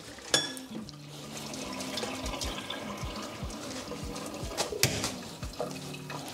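Water splashes and gurgles steadily as it is poured over noodles in a colander, like a stream from a tap or pot, with clattering and knocks of kitchenware throughout.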